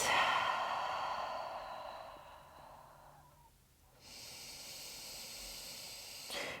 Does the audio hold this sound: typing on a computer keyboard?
no